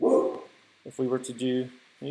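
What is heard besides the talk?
dogs barking in the background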